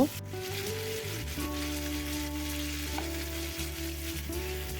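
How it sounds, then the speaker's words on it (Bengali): Pointed gourd pieces fry in oil left over from frying fish, a close, continuous bubbling sizzle over a low steady hum, with an abrupt knock at the start and no speech. "মাছ ভাজার যে তেলটা আছে সেটা আমি রেখে দিয়েছিলাম সেই তেলেই আমি পটলগুলো একটু ভেজে নিব"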